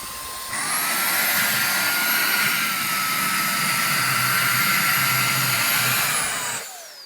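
A vacuum cleaner switched to its max double-power setting kicks in with a loud, steady, high-pitched motor whine that holds for several seconds and then winds down, with no voices.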